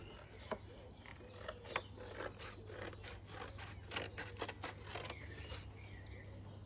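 A paper or card template for the glass of a shed door being cut by hand with scissors: a run of crisp, irregular snips and rustles, fairly close and moderately quiet, with no talking.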